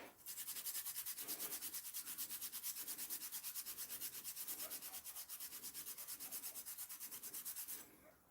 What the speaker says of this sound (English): I'll settle for a scrubbing pad since that's more than abrasive enough